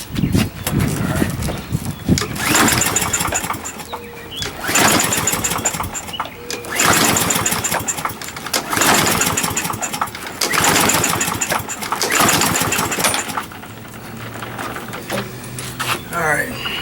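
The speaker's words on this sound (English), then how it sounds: "Let me try to pull it." A push lawnmower that will not start, with a suspected faulty carburetor, is pull-started again and again, each yank giving a loud sputtering burst of engine noise that dies away, with someone talking between pulls.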